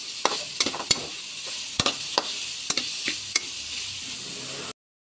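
A spoon stirs and mixes ingredients in a pan while boneless milkfish and tofu fry with paprika and black pepper. Irregular scraping clacks ride over a steady close sizzle that cuts off abruptly.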